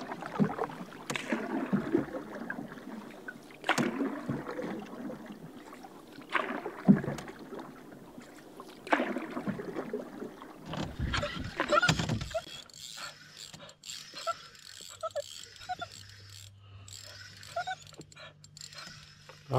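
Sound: paddling a canoe on a lake

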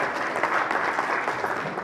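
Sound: audience applause at a conference

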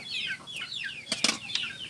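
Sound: chicken sounds

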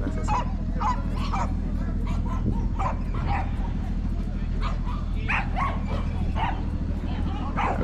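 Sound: dogs barking at a dog show

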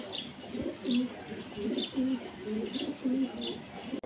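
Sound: pigeons cooing

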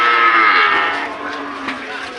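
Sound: Holstein Friesian bull calf

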